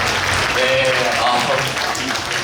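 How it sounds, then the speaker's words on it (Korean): Applause from the crowd at a youth forum in Suncheon, a continuous spread of clapping mixed with voices and murmuring throughout, moderately loud. "여러분들 박수 함께 부탁드리겠습니다."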